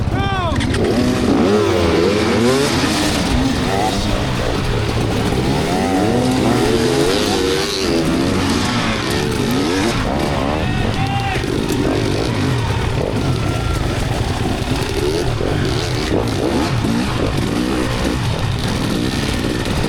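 Enduro motorcycles rev hard at the Mad Moose 2024 hard enduro race in Michigan's Upper Peninsula, engines rising and falling in a dense, loud overlapping drone that runs the full length, with possible faint voices in the background.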